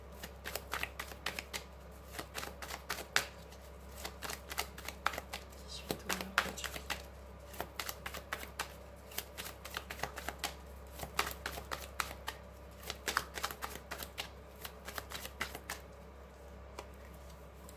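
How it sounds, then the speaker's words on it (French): Witch tarot cards being shuffled and drawn: a steady run of crisp, rapid card riffles and flicks, close and fairly quiet, continuing throughout with no talking. "On va prendre 3 cartes pour cette semaine."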